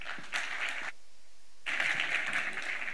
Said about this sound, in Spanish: le damos un fuerte aplauso y la bienvenida a Marcelo Elizondo